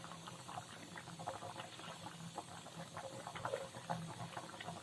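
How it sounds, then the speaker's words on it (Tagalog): Sinigang soup with kimchi and okra simmers in a pot, a faint, steady bubbling hiss with soft scattered pops, close by and low in level. "pakuluan na hanggang sa maluto yung ating gulay, especially yung lady's finger"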